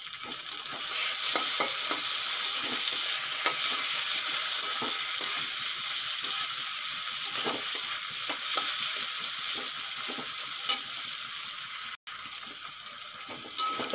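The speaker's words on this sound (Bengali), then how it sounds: "পেঁয়াজের সঙ্গে চিংড়ি মাছগুলো খুব ভালো করে ভাজা হয়ে গেছে।" Halved prawns fry with onions in a hot pan, giving a steady, loud sizzle throughout with intermittent stirring scrapes and clicks, no talking.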